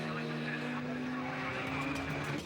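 A Radical race car accelerates toward the finish line at Donington Park during the 2009 Radical Clubman's Cup, its engine a steady droning whine heard faintly from the car under a commentator's talk.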